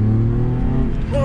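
A car with a 2.5 liter Mazda V6 holds a loud, steady idle-to-rev growl at a car meet, the engine note rising sharply near the end.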